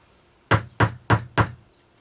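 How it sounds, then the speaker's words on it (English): Four firm knocks on a floor in a steady, evenly spaced rhythm, close and loud against a quiet room. "I'm going to have to do what I always do and knock on the floor so my husband will come and help me."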